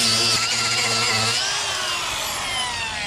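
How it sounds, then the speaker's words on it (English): A power grinder scours rust off the edge of a metal roof, a loud continuous whine and rasp that shifts pitch as it bears down on the seam. "Then I grind away this"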